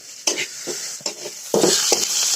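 Chopped garlic tipped into onions frying in a pan for a village-style Bangladeshi chicken and potato dish, with loud sizzling, spoon scrapes and clanks over a steady hiss.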